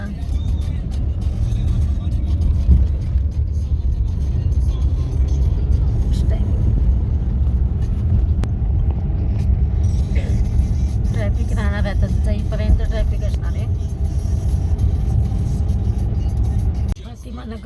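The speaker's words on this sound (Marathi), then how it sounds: "एवढी गर्दी आहे ट्रॅफिक झालेली चौकच आहे हा" A busy city junction at the morning office rush carries a dense, continuous rumble of cars, buses and trucks nearby. Someone speaks over the steady traffic noise.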